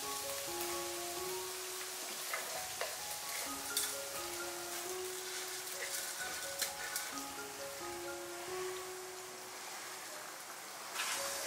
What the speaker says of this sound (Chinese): 蒜蓉炸了有15分钟，有些微微金黄，我们就把辣椒放进来继续炸。